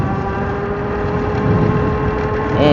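A Tuttio Soleil 01 motorcycle ridden at full throttle gives a loud, steady engine drone with a strong tonal hum that swells slightly toward the end.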